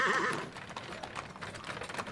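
Horses at a river, with clip-clop hooves and a short whinny near the start, followed by scattered hoof knocks and splashy noise at moderate loudness.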